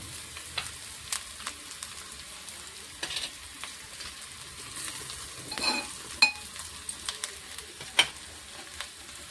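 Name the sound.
tomato, salt and chili added to sizzling fish curry pan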